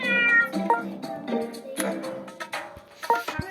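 A cartoon cat meows repeatedly in the PK XD video game, a series of bright, close, high-pitched meows in quick succession with no talking.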